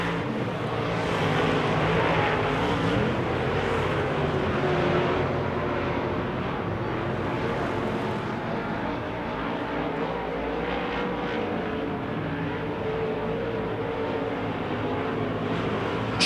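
Wissota modified race cars on a dirt oval during a feature's final lap, a steady loud engine roar that swells and fades slightly as the field passes, with no talk.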